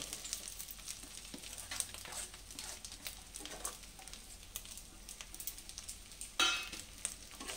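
Ginger and pre-fried ingredients for a Bengali chana dal (split chickpea lentils) hit a hot pan, giving a steady faint sizzle with light stirring scrapes and a brief louder hiss near the end.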